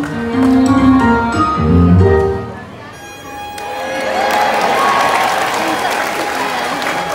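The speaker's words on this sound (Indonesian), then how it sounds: "penonton kalau si Yolotnya bisa meniup trompet, kasih tepuk tangan ya" Audience applause and cheering at a sea lion show at SeaWorld Ancol, Jakarta, rising after a sea lion blows a trumpet; the trumpet's tones are heard first, then broad clapping from the crowd under a presenter's voice.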